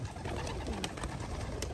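Pigeons in a loft aviary give soft, low cooing calls amid quiet background rustle and faint higher chirps, a dim, close ambience with no voices.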